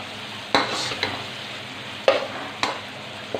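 Tomatoes with salt and garam masala sizzle in a pan as they are stirred, a steady frying hiss punctuated by several sharp spoon knocks against the pan, with no talking.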